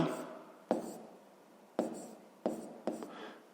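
A pen scratches across paper while a 5th grade math exercise is written out by hand, close and faint, with a few sharp taps and strokes separated by short pauses.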